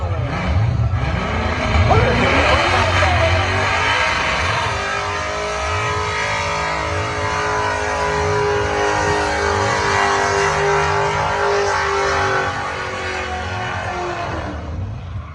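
The Scratch for Traction car sits on the Summernats start line, its loud engine droning and revving in a steady, throbbing burble close by, with crowd and commentary voices mixed underneath.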